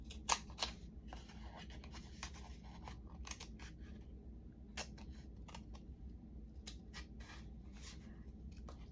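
Scissors cut the center out of a stiff card while making a journal bookplate, heard as faint, sparse snips and rustles over a low, steady room hum, with no talking.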